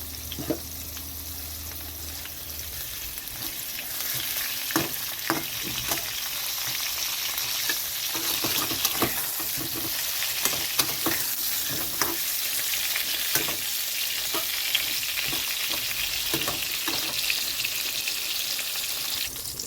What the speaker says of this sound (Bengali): এখানে আমি বেগুনগুলোকে ভাজতে দিয়েছি